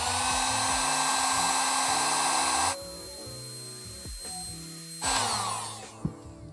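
A cheap heat gun set on high blows steadily for about three seconds, a loud airy hiss with a whine, heating heat-shrink on a wire. It then cuts off, leaving low rumbling and clunks, and briefly surges again.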